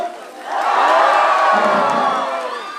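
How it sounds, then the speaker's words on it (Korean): An outdoor festival concert crowd roars with loud sustained cheering, shouting and whoops, rising quickly and holding strong for a few seconds. "자, 이번에 함성!"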